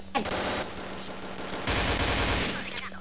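Rapid bursts of automatic gunfire rattle loudly and continuously, with heavier, denser volleys in the middle, sounding like game weapon effects.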